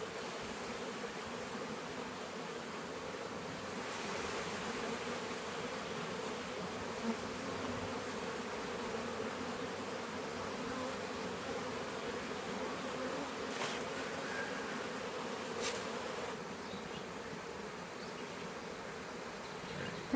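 A honey bee swarm buzzes continuously outdoors, a steady, fairly quiet drone of many insects throughout, with a few brief nearer passes.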